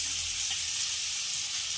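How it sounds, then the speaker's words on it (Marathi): Grated carrots roast in hot oil for gajar halwa, producing a steady, even sizzle up close with a faint low hum underneath. "पण मी इथे तेलामध्ये भाजत आहे। तेल गरम झालेलं आहे,"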